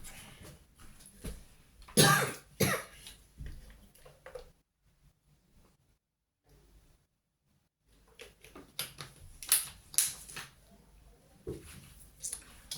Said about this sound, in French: parce que j'arrête pas de tousser